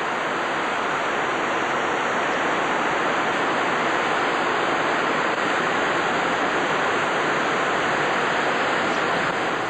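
Heavy, steady rain pours down in a mountainous rainforest, a dense continuous hiss that fills the whole stretch without pause, close and loud, with no voices.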